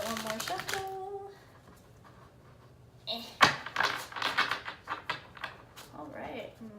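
Soft, rapid papery riffling and slapping of tarot cards being shuffled, a few quick bursts of shuffling with quieter pauses between, close by.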